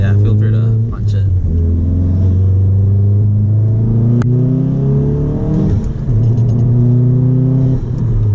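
A Volkswagen Golf engine roars loudly from inside the cabin as it accelerates hard, pitch climbing through gear changes, with a voice briefly heard under the drone.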